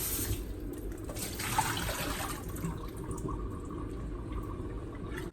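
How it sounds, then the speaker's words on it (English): A kitchen tap runs water over squash being rinsed in a sink, a continuous close splashing stream at moderate volume with slight surges, alone without talk, ending abruptly. "let the water run in one more time."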